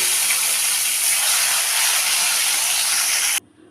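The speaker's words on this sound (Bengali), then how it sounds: "মাছগুলো আমি এখন ভেজে নেব, একটু ব্রাউন করে ভেজে নেব।" Katla fish pieces fry in hot oil with a loud, dense, steady sizzle held close to the pan for several seconds before it cuts off sharply.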